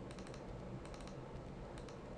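Quick, light keystrokes on a computer keyboard as values are typed into text boxes, a close, steady patter of taps lasting a couple of seconds.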